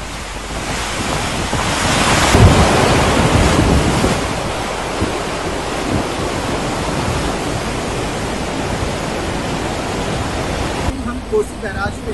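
Floodwater rushing through the opened gates of the Kosi barrage, a loud continuous roar with wind noise, swelling early and then steady throughout.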